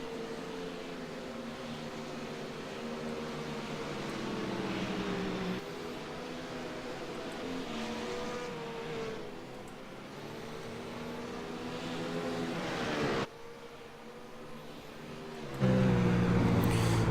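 GT race car lapping Silverstone in a racing simulator, a steady loud engine drone with shifting pitch through gear changes and corners, no talking.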